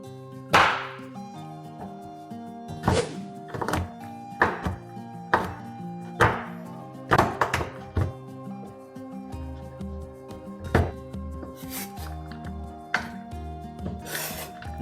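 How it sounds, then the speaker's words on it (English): A knife chops through two types of chocolate on a board in a kitchen, giving a dozen or so sharp, irregular cutting strikes close to the microphone over faint background music. "Let's start cutting this up."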